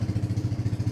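A Scomadi scooter's engine idles close by with a regular low thumping pulse, a brief steady burst of even beats and no voices.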